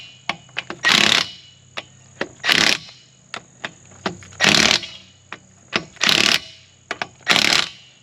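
Impact wrench tightening aluminum wheel lug nuts on a 2007-2013 Chevy Silverado, about six loud hammering bursts of roughly half a second each, separated by sharp clicks and clanks, close and clear with no talking.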